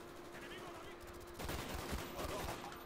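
Burst-fire weapons in the Call of Duty video game, with rapid clustered shots starting midway at a fairly low level, while a player talks over them.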